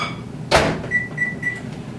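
Five tablespoons of butter are heated in a microwave for an oatmeal crumble mixture: a solid door thunk is followed by three short, evenly spaced electronic beeps, close and clear in a quiet kitchen.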